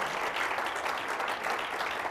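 A church congregation claps steadily and densely throughout, a sustained round of applause in a large room.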